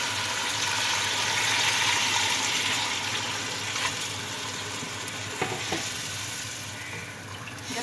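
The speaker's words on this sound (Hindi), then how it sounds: "अब इसमें मैं पानी डाल दूंगी।" Continuous hissing sizzle of water poured into a hot pan of frying spice mixture for mutton biryani, steady and fairly loud throughout, with a few faint clinks near the end.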